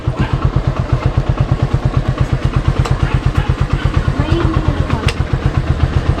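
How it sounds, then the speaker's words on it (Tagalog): A Euro Keyway Cafe Racer 152 motorcycle idles close by at a roadside stopover, its engine pulsing in a steady, rapid low thump throughout, loud and continuous with faint background activity. "ito yung gamit natin na motor, is Cafe Racer 152, brand is Euro Keyway"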